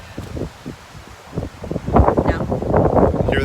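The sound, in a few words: wind blowing outdoors while logging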